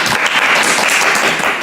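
Loud, dense applause from a small group of hands clapping together in a studio, a steady crackling burst with no voices over it.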